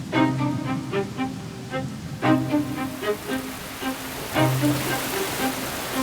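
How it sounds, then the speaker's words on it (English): Heavy rain pours down in a relentless downpour in lion country, a dense constant patter close by under a layer of musical tones. "A relentless downpour,"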